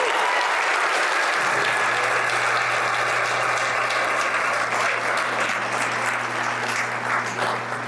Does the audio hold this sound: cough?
no